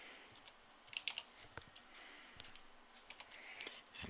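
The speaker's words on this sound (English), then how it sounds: "they will type in Tim" Quiet, irregular clicks of fingers typing a password on a computer keyboard, with soft scattered keystrokes and brief pauses, recorded close and faint with no speech.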